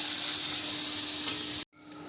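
Chhena bhujiya, crumbled fresh cheese, frying in a pan while being stirred, a steady soft sizzle with a brief scrape of stirring, cutting off abruptly near the end before faint sizzling resumes.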